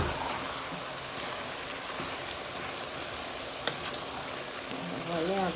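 Beef pot-au-feu stew stirred in a pot, a steady dense bubbling sizzle running throughout with one sharp utensil knock partway through and a brief swell near the end.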